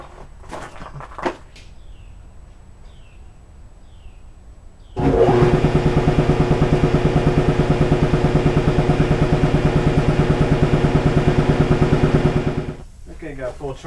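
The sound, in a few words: air compressor recharging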